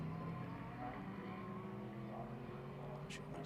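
Hublot Ferrari GT race car roaring down the long back straightaway at COTA during GT World Challenge America qualifying, a steady, droning engine note at moderate distance, continuous and unbroken.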